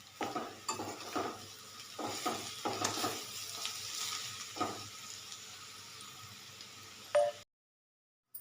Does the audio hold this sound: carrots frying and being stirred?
yes